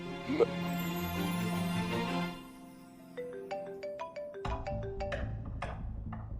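A phone rings with a repeating electronic melody, a sustained tone giving way to a string of bright, plinking notes.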